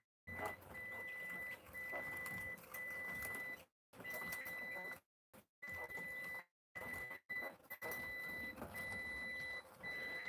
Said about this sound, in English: the temperature alarm's going off on the incubator because I had it open